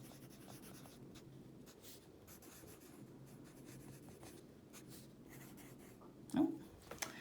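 Steady scratchy strokes of a pen or marker writing on a board in a classroom, continuous for several seconds with a couple of sharper taps near the end, fairly quiet.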